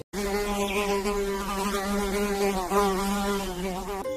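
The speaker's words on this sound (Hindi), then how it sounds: "हाउस फ्लाई को हिंदी में कहते हैं मक्खी।" A house fly buzzing steadily and close, a continuous droning hum with a slight waver in pitch, heard alone for about four seconds.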